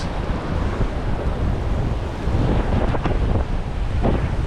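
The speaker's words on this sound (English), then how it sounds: "We have 13 knots of wind, not quite on the beam, just forward of the beam." Steady wind roar and rushing waves aboard a Moody DS48 sailing yacht in about 13 knots of wind, loud and continuous with heavy buffeting on the microphone and no talk.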